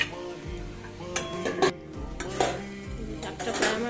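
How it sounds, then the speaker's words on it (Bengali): A lid clanks down onto a cooking pot of bethe greens: close, bright metallic clatter and clinks of pots and utensils in bursts, with a low simmer underneath. "আবার একটু ঢাকা দিয়ে দেবো।"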